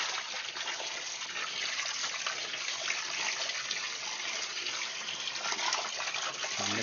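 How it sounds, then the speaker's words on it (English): Dedicated RO water pump filling a container, a steady broadband rush of pouring water that stays even and close for the whole stretch, with no talking. "This is my dedicated RO pump."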